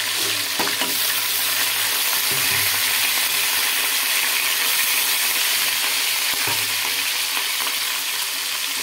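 Cumin seeds, garlic and green chilies frying in hot oil give a steady, dense sizzle with close crackling and occasional stirring clinks, continuous throughout with no talking.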